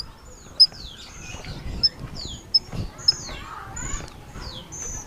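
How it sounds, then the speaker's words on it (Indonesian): A large hill myna, kept as a rescued pet bird, gives a series of sharp whistled calls and chirps with a few loud peaks, close by, over a low background rumble. "Jadi ini adalah burung siung batu yang besar."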